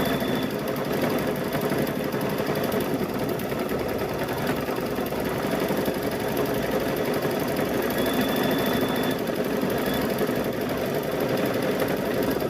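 A sewing machine runs continuously while stitching a wacky patchwork gnome quilt, a steady mechanical whir with a faint rhythmic knocking that holds at even volume close by, with no talking.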